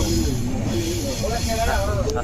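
The Konark Express rumbles steadily along the rails with a constant low roar, wheel squeals and wavering tones rising over it, heard from inside.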